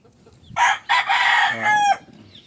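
A rooster crows once, loud and close, a drawn-out call in several strained segments over quiet background.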